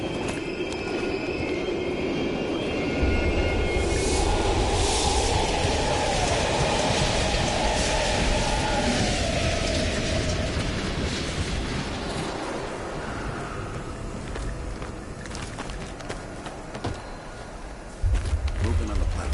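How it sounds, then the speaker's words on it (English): A train rolls past at an abandoned East German station in Call of Duty Black Ops Cold War, a steady low rumble building and fading over many seconds with a squealing tone and faint game voices beneath. "We can use a train to slip past."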